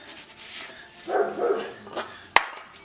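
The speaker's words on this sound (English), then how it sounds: "Once I calm my dog down, that is." A dog barks indoors in a short burst of a couple of nearby woofs, followed by a sharp click or knock, fairly loud with some background noise.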